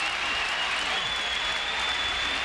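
Tennis crowd at a Sampras versus Safin quarterfinal in Toronto applauding a match point, a dense, steady wash of clapping and cheering throughout, with no speech over it.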